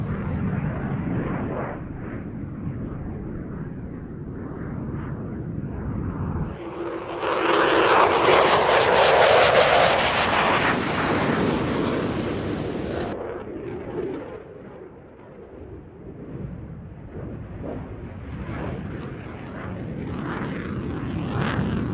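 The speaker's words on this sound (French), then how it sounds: "les avions, ça vole. Ça vole, comme nulle part ailleurs." Aircraft engines drone overhead at the Oshkosh air show, swelling into a loud roaring pass midway before fading back to a lower rumble.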